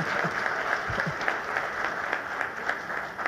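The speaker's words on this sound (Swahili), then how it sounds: "let's put our hands together tupige makofi mengi sana" Applause from an event audience, steady clapping filling the whole stretch at moderate loudness with a few louder claps scattered through it and no clear voices.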